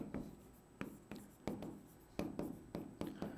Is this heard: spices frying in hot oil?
no